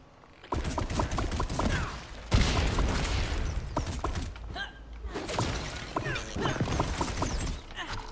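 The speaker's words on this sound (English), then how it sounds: "And that's called shooting up Chica" Rapid bursts of gunfire from the Funko Fusion video game fill the stretch as a Chica character gets shot, dense and continuous with crackling impacts and mechanical clicks and a voice reacting briefly.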